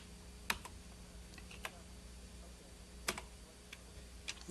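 Sparse, faint key presses on a little computer keyboard, a few separate clicks spaced seconds apart over a steady low hum.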